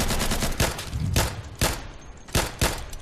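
Bursts of gunfire in the video game Insurgency crack out in separate sharp volleys, about five or six loud shots spaced irregularly over a low background.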